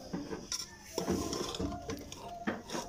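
Cooked Chinese chicken rice being gently folded in a pot, with soft scraping and light clinks of a metal spoon against the pot in short, irregular strokes, fairly quiet and close.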